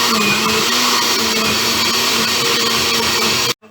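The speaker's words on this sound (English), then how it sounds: "putting my lid back on my blender. It's gonna be loud." A newly bought countertop blender runs on its puree setting, a loud steady whirring motor roar holding constant for over three seconds before cutting off abruptly.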